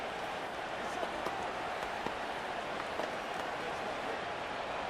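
Steady roar of an excited stadium crowd in Madden 26 during a Jaguars vs Texans game, a dense continuous wash of cheering with scattered claps, with a commentator talking over it.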